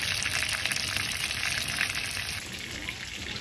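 Continuous crackling sizzle of chicken frying in hot oil, steady and close, with no talking.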